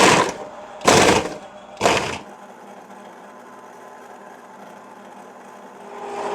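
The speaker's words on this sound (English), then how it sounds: "I have my strawberries in my food processor" A food processor pulses three times on frozen strawberries, each short burst a loud grinding whirr that cuts off into a low residual hum.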